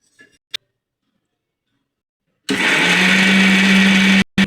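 A kitchen mixer grinder grinds coconut masala, starting after a short tap and running as a loud steady close whir with a constant hum and a sudden stop near the end.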